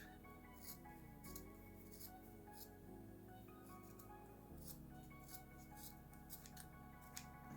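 Scissors snip through magazine paper in a run of sharp, crisp cuts, faint and close, over a steady background of music.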